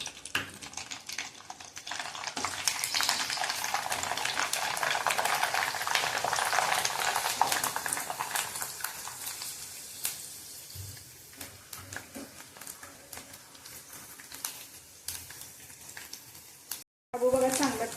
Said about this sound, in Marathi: शाबू जो घेतलाय ते थोडा थोडा टाकून तेलात चांगला तळून घ्यायचा आहे फुलेपर्यंत